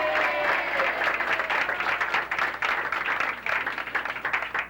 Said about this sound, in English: he deserves your applause